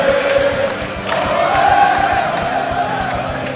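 Crowd at the EVO 2012 King of Fighters XIII grand final, a large tournament audience cheering and shouting in a continuous loud roar with rising whoops, no clear talk over it.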